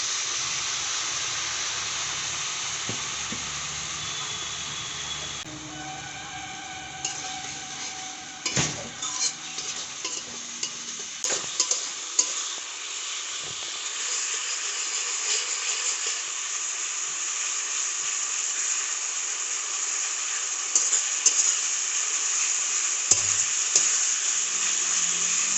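Chicken curry masala fries and sizzles in a pan under a steady hiss, with occasional clatters and scrapes as a utensil stirs it against the metal.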